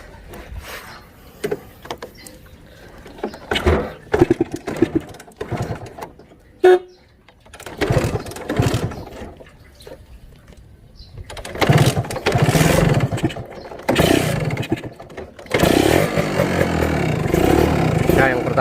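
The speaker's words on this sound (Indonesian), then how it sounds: "Nah kita coba nyalain motornya dulu." Kawasaki Ninja motorcycle being started, with bursts of cranking and sputtering engine noise broken by quiet gaps, then a rougher running engine near the end, close up in a noisy setting.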